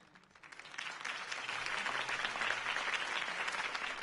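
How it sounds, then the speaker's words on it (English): A political rally crowd bursts into sustained applause after a mayoral campaign speech, the clapping building within the first half second and then holding loud and dense to the end. "could have heard that applause"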